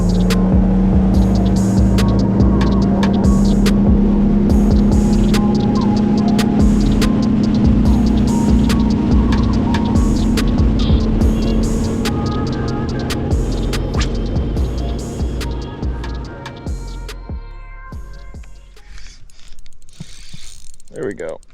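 A bass boat motor on Lake Shasta holds a loud, steady mechanical drone with rattling, ratchet-like clatter for most of the run, then winds down and fades as the boat moves off.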